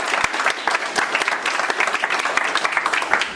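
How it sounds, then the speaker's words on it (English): Steady applause from a crowd at a church groundbreaking ceremony in College Park, dense overlapping claps with a few sharper individual hand claps standing out, fairly close. "So I'd like to give everyone a round of applause."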